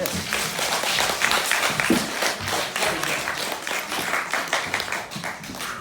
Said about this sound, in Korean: 아직 박수 한번 주십시오.